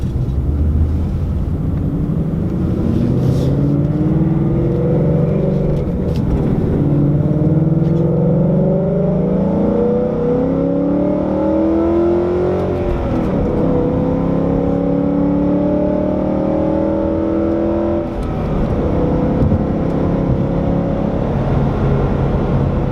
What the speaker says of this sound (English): See if I can give it a little second gear pull here.